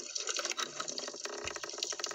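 Moving seawater heard from underwater, a dense, steady wash of gurgling and bubbling with faint clicks, close and fairly quiet, with no voices.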